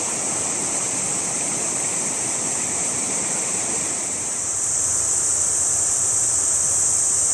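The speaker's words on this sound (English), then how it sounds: "This is Crystal Falls" Waterfall at Crystal Falls in the Douglas-Daly Rivers area during the build-up season, a steady, dense roar of falling water heard alone and fairly close, with a broad hiss that swells slightly toward the end.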